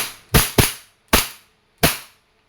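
A KWC M1911 airgun fires four sharp, loud cracks nearby: two in quick succession, then two more at slower, even intervals, each decaying quickly into silence.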